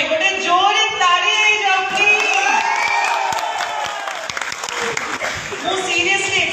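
Audience at an Odia community stage show in Abu Dhabi claps and cheers loudly, a dense, continuous wash of applause with whoops and crowd voices throughout.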